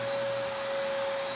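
A vacuum steadily drones while sucking up debris left from first-grit grinding on a 1960s terrazzo floor, a loud constant whine with a sharp tonal hum and no breaks.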